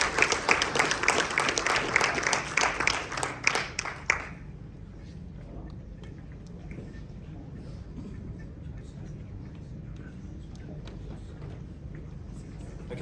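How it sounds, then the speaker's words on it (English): Audience applause after a sustainability presentation, a dense, lively round of clapping lasting about four seconds before cutting off to a quiet room with low background hum. "That was incredible, so I think another round of applause like that"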